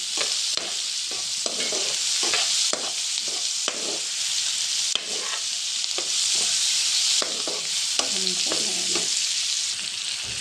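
Tomato with turmeric and salt fries in a pan, sizzling loudly and steadily while a spatula scrapes and stirs in regular close strokes.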